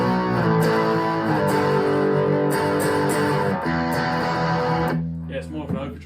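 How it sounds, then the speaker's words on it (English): An electric guitar plays through the distortion channel of a Blackstar amp, giving a loud, thick, sustained distorted tone with ringing chords that drops off near the end. "So it's more of a distortion channel than a..."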